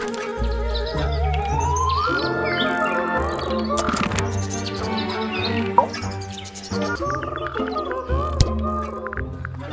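Three fancy caged birds in the game Tangle Tower chirp and tweet over a busy musical backdrop, with bright, high calls scattered across the scene at moderate loudness.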